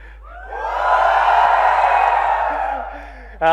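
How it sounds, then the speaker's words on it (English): At a Xiaomi Redmi K20 launch, an indoor audience of hundreds of fans rises into a loud, prolonged cheer with whoops and shouts; it fades toward the end and a voice starts speaking. "No, give me a flagship cheer."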